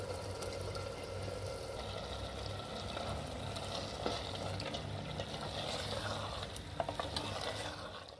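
Beef and red chili frying in a pot for beef handi: a soft, steady sizzle with faint stirring scrapes and light clinks, fairly quiet and close, with no voices.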